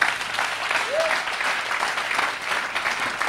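A church audience applauding and cheering for the Holy Spirit, dense steady clapping with crowd noise and a short voice rising above it.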